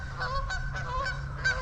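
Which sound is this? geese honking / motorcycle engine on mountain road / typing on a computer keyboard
geese honking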